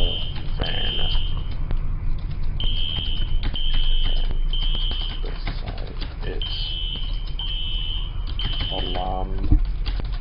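A fire alarm sounds in a UK roleplay video game set at a caravan house fire, with repeated high electronic beeping tones in short bursts running through the scene while people talk over it.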